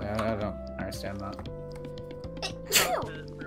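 A single close, sharp sneeze bursts out near the end during a spoken exchange, with a tonal musical background running underneath and light clicking like typing.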